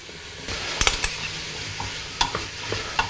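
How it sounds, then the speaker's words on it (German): Apples and shallots sauté in melted butter in a pot: a soft continuous sizzle broken by several sharp scrapes and knocks of a stirring utensil against the pot, close by. "sobald die Butter zerschmolzen ist, geben wir die Äpfel dazu und Schalotten"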